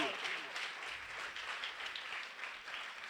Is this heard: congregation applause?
yes